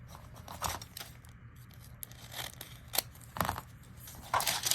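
Scissors trimming paper for a junk journal page, a few soft snips and crinkly paper handling spread across the stretch, quiet and close with a low hum underneath, no speech.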